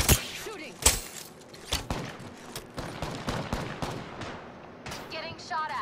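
Gunfire in the Apex Legends video game, sharp shots and rapid bursts scattered through a firefight, with players talking over the action.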